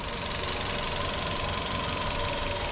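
A Chevrolet Spark small car engine idles steadily close by, a constant low rumble with a faint ticking rattle and no other sounds.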